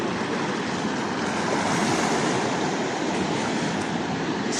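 Ocean waves wash onto a sunny KZN beach at Trafalgar in a broad, continuous roar of surf, close and loud, with the wash swirling steadily throughout.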